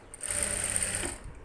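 Sewing machine stitching a folded quarter-inch blouse hem, a brief rapid run of needle strokes that swells and fades, close and fairly faint.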